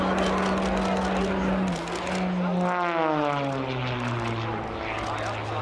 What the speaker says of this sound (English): as the aircraft goes up into the vertical